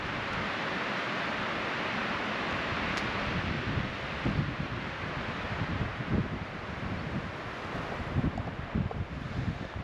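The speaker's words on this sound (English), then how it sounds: "Man, those trees are swaying in the wind." Steady wind roars through swaying trees around a tent campsite in the woods, a continuous broadband rush with gusty swells toward the end, close and fairly loud with no talking.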